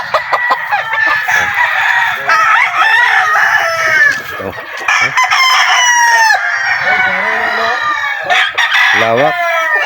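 Many fighting roosters crow and cluck loudly and continuously on a farm, overlapping one another at close range in a busy flock, with a voice briefly audible underneath.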